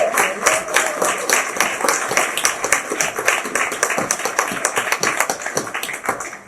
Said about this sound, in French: on aimerait ça applaudir Stéphanie